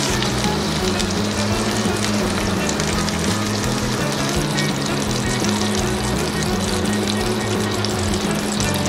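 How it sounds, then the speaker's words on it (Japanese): Meat browning in a frying pan, a dense, constant loud sizzle with a hissing wash that runs unbroken, heard close up with no voices. "あとは表面に焼き目をちょっとつけてきます。 こんな感じで焼いてきます。"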